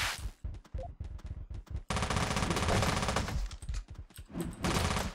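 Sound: gunfire in the video game Teleglitch

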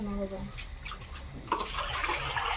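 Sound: washing leaves in water

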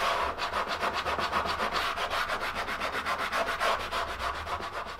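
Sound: hand sanding a wooden marquetry surface

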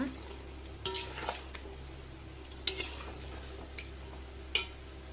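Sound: stirring mutton biryani in a pot

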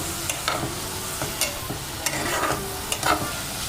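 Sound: finely cut vegetables sizzling in a pan for pasta

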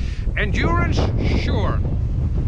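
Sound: wind blowing outdoors

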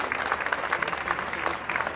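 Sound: parents applauding at school annual day

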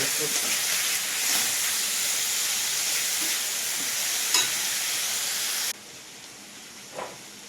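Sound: tomatoes frying with onions in a pan for chilli chicken

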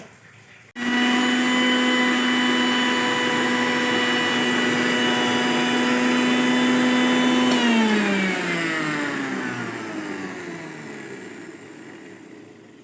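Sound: mixer grinder grinding chutney

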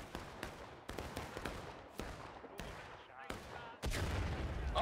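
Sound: artillery battery firing, from video game War of Rights

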